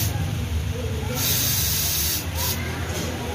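Cleaner sprayed onto the throttle body socket of a Honda Vario 150 scooter, loud close hissing bursts, one long spray followed by a couple of shorter ones.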